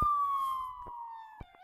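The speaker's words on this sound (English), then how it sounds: "I hear like 20 police cars." A wailing video-game police siren sweeps steadily downward in pitch, loud and close, with a couple of brief thumps near the end.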